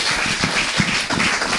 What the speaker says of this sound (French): Applaudissons Jésus-Christ, alléluia.